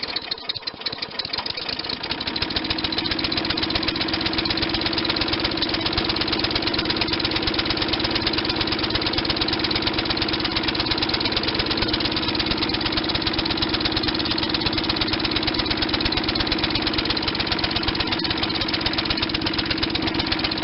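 A 5hp Tecumseh engine on a Craftsman push lawnmower catches from a cold start with a rough sputter, then settles into a loud, steady, close running drone with a knocking rattle, running rich.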